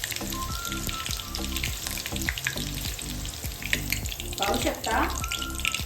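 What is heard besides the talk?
green chilies frying in oil until crisp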